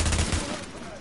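Incendiary-round gunfire in the shooter game The Division, a dense burst of rapid shots at the start that fades into a rumbling tail, loud and close, with no talk over it.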